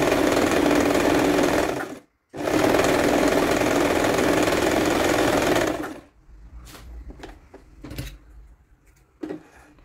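A sewing machine runs loud and fast, stitching a zigzag seam on a small witch hat for a Blythe doll. It pauses briefly, runs again for several seconds, then stops and leaves faint handling clicks.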